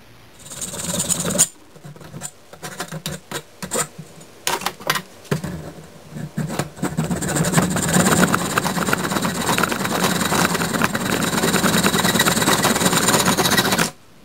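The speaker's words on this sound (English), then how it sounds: "Now I got to cut my rod and try to assemble this." A brass rod for a knife is cut with a power tool, bursts of whining and grinding at first, then a sustained loud buzzing cut running steadily for several seconds close by.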